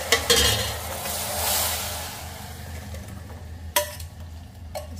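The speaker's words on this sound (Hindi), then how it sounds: "दूध हम पका लिए हैं, दूध में गिरा देंगे, इसमें से कप दूध हम इसमें गिरा देते हैं।" Boiled milk poured into melted jaggery in a pan for sweet curd, giving a soft rushing sizzle, then spoon stirring with a few sharp clinks against the pan, close and without talk.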